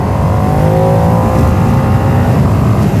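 A Ducati Panigale V2S motorcycle engine revs loud and close, a dense continuous roar with a steady throbbing low end that holds without a break.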